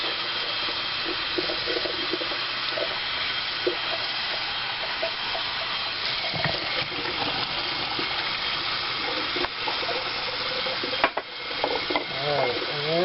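Sprouting seeds are rinsed in water and shaken, a continuous wet swishing and running-water rush with scattered rattles and splashes, ending with a brief voice.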